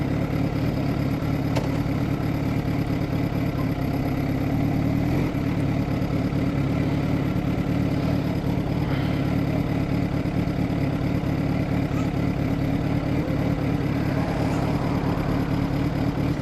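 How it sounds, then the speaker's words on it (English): A Honda Grom motorcycle engine idles steadily close by, an even, continuous mid-pitched putter with no revving. "Bike sounds good, runs good, feels good."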